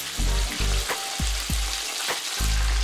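Chicken pieces fry in oil at 160 °C, a steady bubbling sizzle broken by a few low thumps and clanks from a pot or utensil, with nobody speaking.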